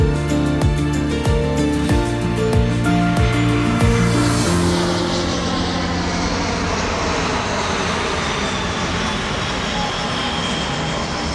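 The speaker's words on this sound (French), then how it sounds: "c'est impressionnant de voir les avions là passer" A jet airliner passes low overhead near Faro airport in Portugal, a loud rising engine roar with a whining tone that sweeps past and then fades into a broad, steady rumble.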